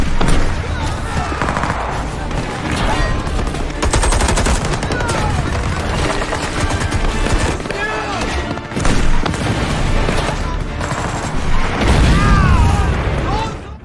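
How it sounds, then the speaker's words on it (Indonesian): Anti-tank artillery and gunfire in a war film battle against Nazi German tanks, a dense, continuous roar of loud shots, bursts and booms layered with battle noise and shouting voices throughout. "para kadet bergegas menyiapkan artileri anti-tank untuk menghancurkan tank Nazi Jerman"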